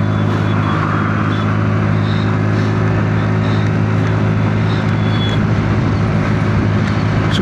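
A Hero Xoom 125 scooter accelerates hard on the road, its steady engine drone holding loud and close over continuous wind and road noise, with no talking.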